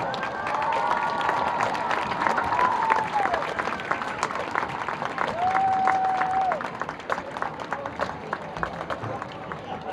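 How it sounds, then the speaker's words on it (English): Crowd applause and cheering in the stands at a high school football game, Edison, after a halftime performance, steady and dense for the full stretch with a PA announcer's voice heard under it and brief whistle-like tones. "how about a round of applause?"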